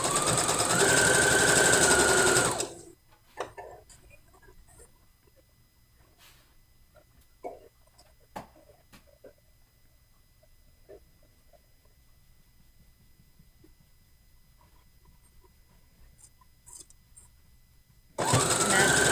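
A sewing machine stitching ruffled fabric runs in a loud, steady whir for a few seconds, stops for a long quiet stretch of small handling clicks and rustles, then starts up again loudly at the end.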